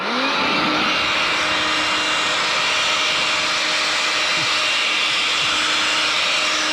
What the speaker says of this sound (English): So we're gonna blow out his air filter here.